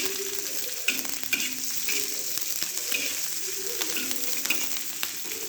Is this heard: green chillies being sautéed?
yes